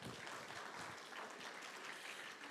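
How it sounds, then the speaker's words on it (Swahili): A crowd at a Muslim community iftar gathering applauds members of parliament with steady, dense clapping that continues evenly throughout, heard from within the audience and without speech. "Tuwapigie tena makofi hao wabunge wetu."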